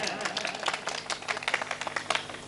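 An audience at a comedy poetry stage show breaks into lively clapping, dense and uneven, with a voice heard over the applause.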